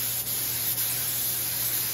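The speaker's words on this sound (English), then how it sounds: "spraying Epoxy Primer to just kind of seal everything up" Steady, even hiss of a spray gun applying epoxy primer to a 1975 International Scout II, continuous and close, with no voices.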